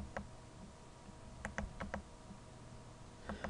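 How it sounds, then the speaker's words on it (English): Computer keyboard keys pressed to step through animation frames while drawing, heard as a handful of crisp, quiet clicks in short clusters against a soft room hum, with no voices. "I'm flipping back through the frames, again using the more than and less than symbols on your keyboard"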